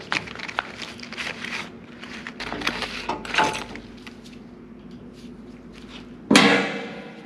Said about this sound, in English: Let me get this cover pulled off here and see if we see anything obvious underneath there.